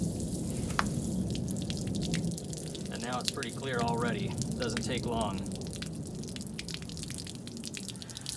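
Water runs steadily from an RV's outside shower, flushing pink antifreeze out of the line, a constant hiss and patter heard close by while someone talks briefly over it.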